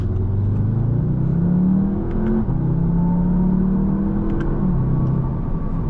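A 2020 Audi TTS with a seven-speed dual-clutch transmission accelerating hard, its engine note climbing in pitch, dropping briefly at a quick gear change, then rising again, loud and close from the cabin.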